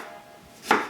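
A knife chops peeled ginger on a board, a single short thud near the end of a quiet moment, close and alone.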